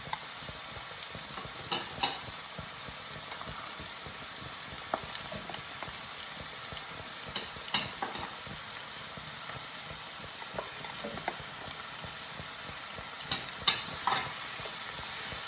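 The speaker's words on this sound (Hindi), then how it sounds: "अब इसको थोड़ा सा सब्जियों को चिकन के साथ ऐसे फ्राई करूंगी।" Chopped capsicum and broccoli fry with chicken in a pan for macaroni, a soft steady sizzle broken by faint scattered clinks and stirring scrapes.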